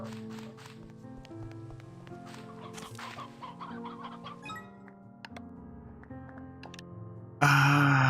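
Chickens in a video game cluck in a series of close, overlapping calls, ending with a sudden loud burst of louder noise at the end.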